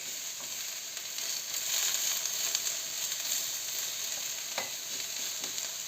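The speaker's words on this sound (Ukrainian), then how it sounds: "З одного боку буду смажити перчик, а з другого боку буду смажити цибулю." Steady sizzling of peppers and onions frying in oil in a large pan, a constant crackling hiss with occasional pops and a stir near the end, close and without talk.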